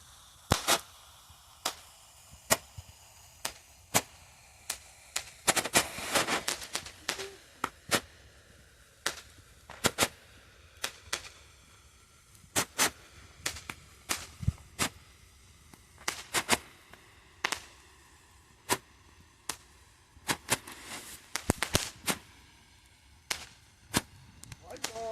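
A spinning firecracker bomb goes off at a rural Bahia bonfire festival, giving dozens of sharp, crackling pops in quick irregular bursts, some loud and close, with a denser flurry of cracks in the middle. Faint voices are heard underneath.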